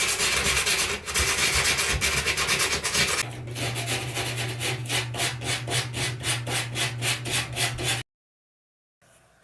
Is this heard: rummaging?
no